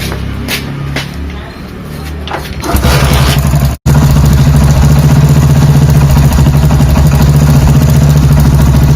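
Hero 100cc self-start motorcycle fires up after some clatter and handling noise, then settles into a loud, close, steady low idle that holds to the end, with no talk over it.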